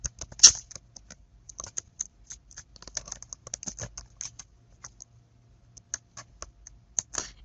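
Fingers tapping out a password on a computer keyboard, irregular bursts of crisp close key clicks with short pauses between, no voices.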